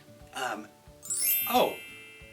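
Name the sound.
bell ringing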